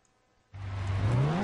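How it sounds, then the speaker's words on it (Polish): In the TOCA Race Driver 3 video game, a Renault rallycross car engine bursts from near silence into a loud, rising rev at the start, climbing steadily in pitch. "Startujemy z ostatniej pozycji, piłujemy silnik."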